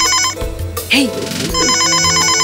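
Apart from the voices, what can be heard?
telephone ringing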